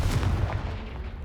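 A fire spell blast from the video game Hogwarts Legacy, cast at a pile blocking a stairwell, lands as a deep, rumbling boom that rolls on with a heavy low-end roar for the full second.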